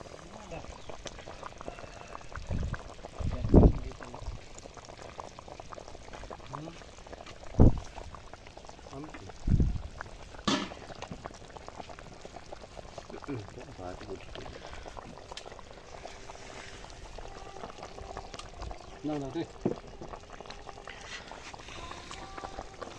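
A pot of wild quail curry simmers with a soft, steady bubbling, and a few sharper clinks or pops stand out near the start and middle.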